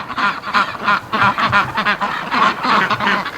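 Muscovy ducks rushing home from a muddy yard after playing in an emptied pool, a dense flock giving steady overlapping quacks and honks close by, with no talking.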